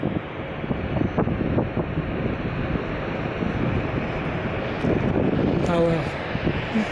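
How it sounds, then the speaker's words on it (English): An airplane flies over near Salt Lake City's airport, a faint, steady distant rumble mixed with gusty wind noise while a person talks throughout. "I see an airplane up there"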